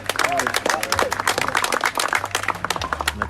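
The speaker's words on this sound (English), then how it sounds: "the crowd giving these players a round of applause" At a mixed doubles pickleball match at the 2020 Hawaii Open, a crowd gives a quick burst of clapping while a commentator talks over it.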